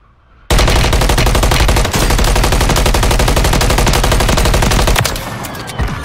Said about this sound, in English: I hear somebody shooting.